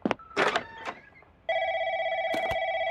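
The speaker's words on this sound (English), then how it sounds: "Okay, it's ringing again." Video game telephone in an apartment ringing with a steady electronic tone that starts abruptly and holds loud and sustained, after a few brief clicks and button tones.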